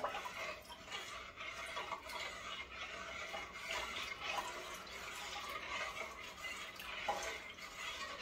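A soft, steady pour of cow's milk into a pot while making yoghurt, faint and continuous, with light metallic clinks from the vessel.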